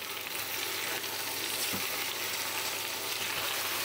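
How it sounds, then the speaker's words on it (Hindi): Pointed gourd and potato curry frying in a pan on a gas flame, with a dense, continuous sizzle and occasional soft scrapes as it is stirred, close up and alone without talk. "बस अच्छे से मिक्स करके गैस का फ्लेम हम बंद कर देंगे"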